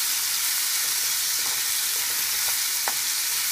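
Tomatoes simmering and frying in a pan for kara chutney, a constant dense sizzle close by with a few faint stirring clicks.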